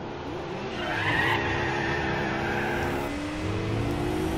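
Race car engine in the Gran Turismo 4 video game, a steady loud drone with rising pitch sweeps as it accelerates, with a tire squeal layered in around the middle and no talk.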